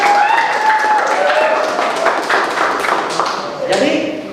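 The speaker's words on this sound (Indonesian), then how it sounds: "Tepuk tangan untuk kelompok satu." A school class claps for group one, a loud burst of many hands that thins out gradually, with voices talking over and around the clapping.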